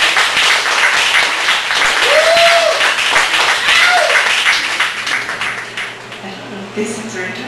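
Audience applause fills a poetry open mic at a Chicago café, a steady wash of many hands clapping that runs throughout and thins slightly toward the end.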